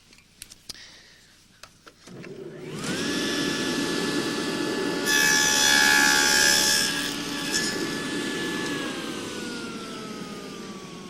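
An adjustable dado blade bites into wood after a few light clicks, settling into a steady, loud whining cut that rises briefly in the middle and then spins down, with no talking.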